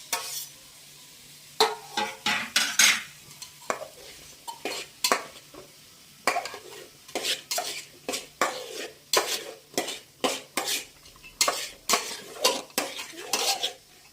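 Repeated scraping and clattering of a spatula against a metal pan as capsicum, beans, potato and carrot are stirred, in bursts with short pauses, close and fairly loud.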